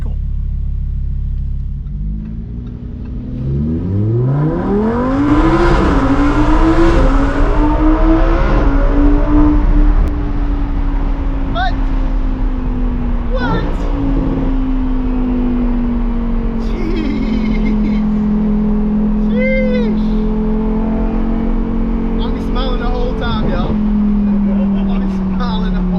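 A Lamborghini Huracan Performante engine revs hard at launch, its note climbing steeply and loudly before settling into a sustained, slowly falling drone with road rumble. A voice speaks over it in places.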